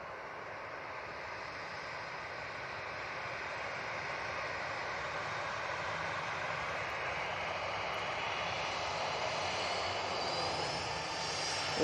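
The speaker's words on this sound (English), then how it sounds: "Next in, we've got the KLM Embraer 175. It's coming in from Amsterdam" A KLM Embraer 175 jet arriving from Amsterdam roars steadily in a broad engine drone that swells slightly as it approaches at an airport, with no talk.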